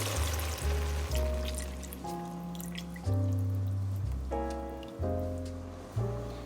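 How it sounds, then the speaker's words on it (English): Bone broth pours into a soup pot, a continuous splashing liquid stream with shifting resonant tones as the pot fills, interrupted by several brief pauses between pours. "Now we're going to add 4 cups of bone broth."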